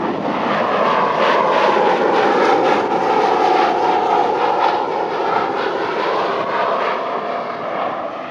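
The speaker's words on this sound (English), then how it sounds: "one tank of gas at wide open throttle, which is a speed in excess of 170 miles per hour at our desert proving ground" A Corvette runs at wide open throttle above 170 mph on a desert proving ground, giving a sustained loud roar with a steady, slightly wavering engine tone that eases a little near the end, without speech.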